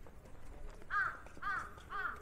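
Crows calling at a harbour entrance on the Busan coast: three separate drawn-out caws about half a second apart, moderately close, over quiet outdoor ambience.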